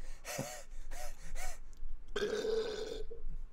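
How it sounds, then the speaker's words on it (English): A loud, wet, gurgling burp of about a second, preceded by several short guttural gasping bursts, heard close up with no talk over it. "That sounded like you drowned while you were burping."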